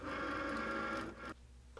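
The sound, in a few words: Cricut Maker cutting machine scoring felt pieces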